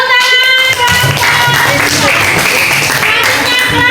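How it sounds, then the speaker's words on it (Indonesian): Classroom clapping after an organisation programme presentation, a brief round of hands over a tonal background of music or voices, fairly loud and close throughout. "Iya, tepuk tangan."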